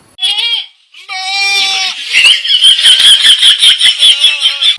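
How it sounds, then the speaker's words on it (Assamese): A female goat bleats loudly several times up close, with drawn-out wavering cries and a rapid pulsing bleat at the end, no other sounds around. "এই ছাগলীহালৰ মাইকীজনীটো অলপ চিঞৰি যেন লাগিছে"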